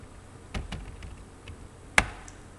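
Keys on a computer keyboard are tapped sparsely for shortcut presses such as F2, a few soft clicks with one sharper, louder keystroke, all faint and close with no talk.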